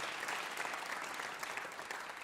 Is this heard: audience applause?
yes